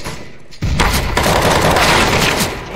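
A grenade going off in CS:GO, a loud burst of blast-like noise after a brief quiet start, sustained and dense for a couple of seconds, with gunfire-like crackle mixed in.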